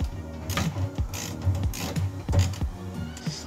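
Loosening the bolt under the fork tube of an Italika AT110 motorcycle, a run of quiet ratcheting clicks and mechanical creaks repeating in a steady rhythm, up close.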